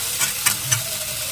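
Chicken being stirred and fried in oil for a chicken kosha, with a steady sizzle and a few brief scraping stir strokes close by, without any talking.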